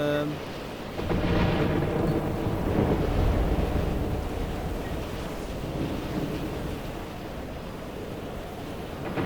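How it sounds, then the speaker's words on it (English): A storm in the video game Pacific Drive: a heavy, continuous roar of wind and rain with deep rumbling thunder that swells after the first second and then holds steady. "we're now in just a regular storm"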